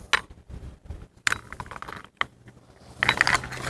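A small set of keys for roof rail end caps jingles and clinks in a few quick bursts, close and bright, with light handling taps between.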